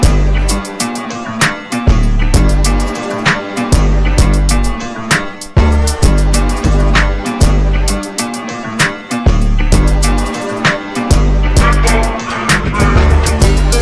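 A full hip-hop beat loops loudly, with booming 808 bass, snappy drums and a brassy melodic layer repeating in a steady groove.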